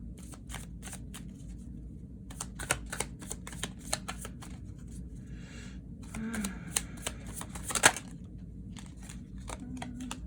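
Tarot cards are shuffled by hand in quick riffling bursts and soft flicks, close and fairly quiet, with a brief rustle near the middle and no voice.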